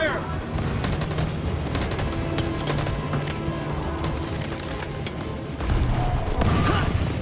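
Gunfire in the video game Detroit: Become Human, a dense burst of repeated shots with booms running steadily across the whole stretch, getting louder near the end, with a voice briefly mixed in.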